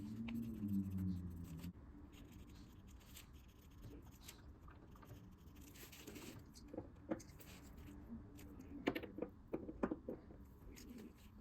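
Fountain pen writing names on paper beside ink swatches, soft close scratching and tapping strokes in short irregular bursts, faint and quiet with light handling noise.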